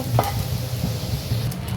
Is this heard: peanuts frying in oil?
yes